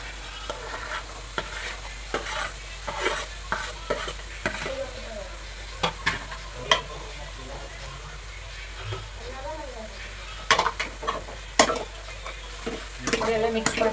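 Ridge gourd tossed into a pan and stirred while frying, with soft sizzling under repeated sharp scrapes and clacks of a spatula against the pan, and a person talking between strokes.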